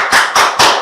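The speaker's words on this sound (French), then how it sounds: "Applaudissements, mesdames et messieurs" Studio audience clapping, three loud, close bursts of claps in quick succession, each short and sharp.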